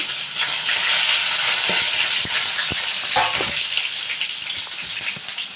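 Onion, chillies and curry leaves frying in hot oil for a drumstick curry, a steady loud sizzle throughout with scattered pops and a few scraping stirs of a spoon against the pan.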